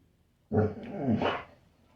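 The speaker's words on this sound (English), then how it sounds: "This dog, he is very, very protective of our home." A protective house dog lets out a single close, loud growling bark lasting about a second, rumbling low before a sharper rise, alone in a quiet room.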